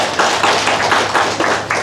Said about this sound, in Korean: 네, 박수하겠습니다.